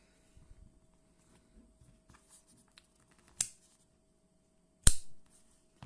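Clicks from a Victorinox pocket knife fitted with an aftermarket Lazerman part, two sharp isolated snaps heard close up over near-silence, with faint handling sounds in between.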